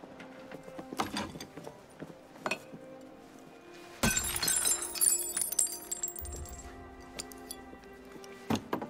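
A fake Koh-i-Noor diamond made of glass shatters in the video game Assassin's Creed Syndicate, a sharp crash of breaking glass followed by tinkling shards and scattered clinks, with softer ticking and clinking before it and low ambient tones beneath.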